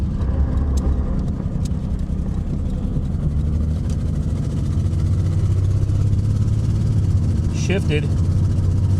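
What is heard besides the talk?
1991 Mercury Cougar engine running and sputtering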